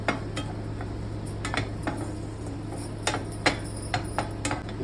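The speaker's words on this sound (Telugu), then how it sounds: "తీసుకున్న చింతపండు కూడా కొంచెం ఫ్రై చేయాలి బాగా." Tamarind frying in a pan for Andhra chutney podi, stirred with a utensil that clinks and scrapes against the metal several times over a low steady hum, with no voices.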